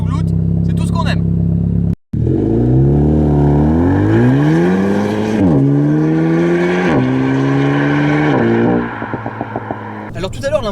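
A Renault Megane 4 RS with a stage 1 tune revs loudly up close after a short cut, giving long rising, wavering engine sweeps that gurgle and crackle as they settle toward idle, with a voice talking over the end.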